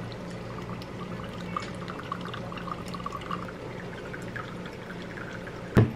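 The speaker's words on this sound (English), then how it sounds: "you just add in more water slowly in slow, like, circular motions" Water poured slowly in circular motions over coffee grounds for pour-over coffee, a soft steady trickle heard up close, ending with a brief louder knock or clatter.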